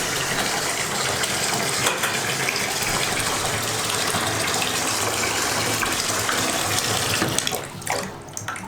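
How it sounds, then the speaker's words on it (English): A hose or tap sends a steady, loud gush of water over a cyclocross bike caked in mud from a cyclocross race, running continuously before easing off near the end. "Time to wash the bike and get myself clean."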